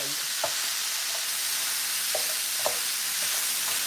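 Onions and celery sizzling in a hot pan, a steady bright hiss with a few soft stirring scrapes, close and continuous.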